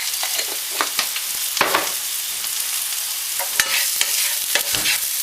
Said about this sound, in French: Donc je vais faire sauter tout cela et le garder de côté